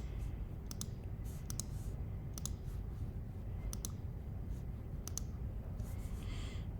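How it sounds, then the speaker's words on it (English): Computer mouse clicks while working in salon management software, crisp quick double clicks repeated about every second or so over a quiet background hum, no talking. "I'm clicking that."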